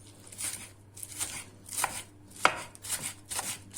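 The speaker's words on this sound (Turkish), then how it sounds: "İnce ince doğruyoruz soğanlarımızı" A knife chops onions finely on a board in quick, uneven strokes, about a dozen crisp close taps and scrapes with short pauses, a faint background hum beneath.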